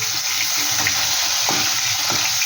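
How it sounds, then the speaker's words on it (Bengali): Fish frying steadily in a pan, cooked until crisp, giving a dense continuous hiss with faint clinks, close and fairly loud throughout. "একটু একটু কড়া করে ভাজছি মাছটা।"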